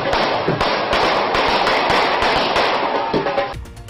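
Gunshots fired into the air at the Faisalabad District Bar Association election: a loud, dense rapid burst of cracking shots that runs continuously and then cuts off abruptly.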